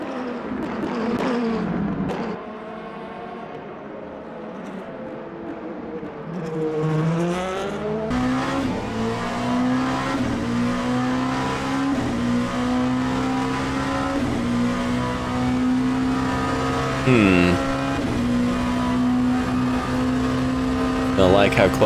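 Race car engine from Le Mans Ultimate on a lap of Monza in a P2 prototype, a loud, steady harmonic drone that dips and climbs through gear changes as the car accelerates and brakes, with a brief tire squeal and faint talk over it.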